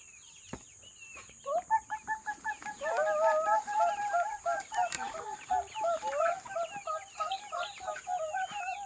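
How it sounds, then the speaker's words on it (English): Chickens on an off-grid farm in Colombia cluck in a busy, overlapping chorus of short calls while children feed them, close and fairly loud, with a steady high whine running beneath. "So now the kids are going to feed the chicken."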